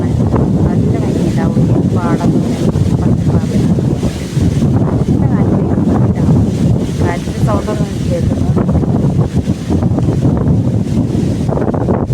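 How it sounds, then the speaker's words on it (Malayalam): Strong outdoor wind near the Kalpathi river buffets the microphone in a steady, heavy rumble, with voices talking throughout. "നല്ല കാറ്റ് വീശുന്നുണ്ട് കേട്ടോ"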